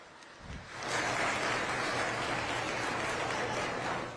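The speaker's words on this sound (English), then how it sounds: "let's give those kids a nice round of applause" Spectators at the Berkeley County Youth Fair applaud young exhibitors after a peewee swine showmanship class. The clapping swells in after a brief pause and then carries on as a steady, full round of applause.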